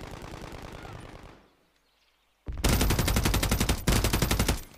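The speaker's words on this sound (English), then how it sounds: "Shot." Rapid machine-gun bursts from Modern Warfare 3 multiplayer, loud and close: a sustained volley, a brief silent gap, then a second, even louder stretch of dense automatic fire.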